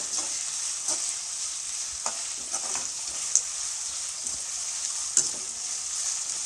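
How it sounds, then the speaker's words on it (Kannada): Two medium onions roast in a pan over a high gas flame, giving a bright, continuous sizzle with a few sharp spatula taps and scrapes as they are stirred. "ಈರುಳ್ಳಿ ಸ್ವಲ್ಪ ಚೆನ್ನಾಗಿ ರೋಸ್ಟ್ ಆಗಲಿ ಅಂದರೆ ಟೇಸ್ಟ್ ಬರುತ್ತೆ"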